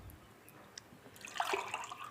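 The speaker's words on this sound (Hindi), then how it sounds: "अब मैं इसके अंदर 2 गिलास पानी शामिल करूँगी।" Water from a glass pouring onto 200 grams of tamarind in a pot for sweet-and-sour imli chutney, a short splashing gush that swells and trickles over about two seconds, close and moderately quiet.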